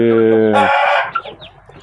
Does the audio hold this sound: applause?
no